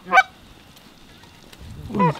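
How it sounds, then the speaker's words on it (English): Brant geese on an Alaska hunt honk in two short, loud bursts near the microphone, separated by a quiet gap with faint distant calls. "There's so many birds up here."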